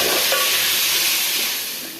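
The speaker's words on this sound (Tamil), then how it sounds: "கட் பண்ணி வச்சு தக்காளி சேர்த்து வதக்கிடுங்க. உப்பு போட்டு நல்லா வதக்கிக்கிடணும்." Chopped tomatoes with salt sauté in a hot pan for veg kurma, giving a loud, steady sizzle and hiss that eases slightly toward the end.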